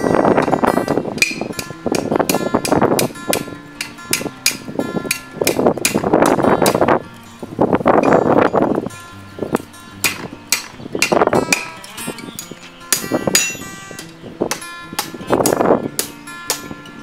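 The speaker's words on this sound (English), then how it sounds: "using the corner of my anvil right here to get the scarf to go around each side as easy as I possibly can" Hammer blows on hot steel at the corner of an anvil while forging an eyelet scarf for a barn door, sharp ringing strikes in quick bursts separated by short pauses, close and loud.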